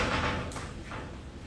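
A dog bumping against a door to get in, a couple of dull thuds and rattles against the door over a loud, noisy room background.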